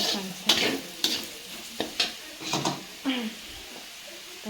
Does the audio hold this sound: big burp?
no